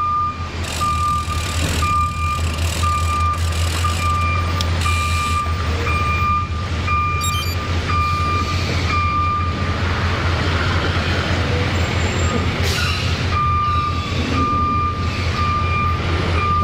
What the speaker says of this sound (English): Another Gaston truck picking up debris.